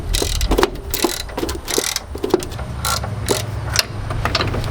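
Ratchet wrench loosening bolts on a 2001 NB Mazda Miata during a serpentine belt change, rapid repeated clicking bursts, close and loud, with metallic clanks between strokes.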